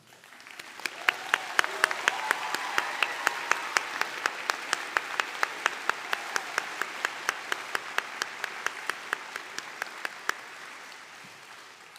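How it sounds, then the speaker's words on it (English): A large crowd at a college commencement ceremony applauds steadily, swelling and then slowly fading, with a sharp, regular ticking click repeating throughout over the clapping. "Please join me in one more round of applause"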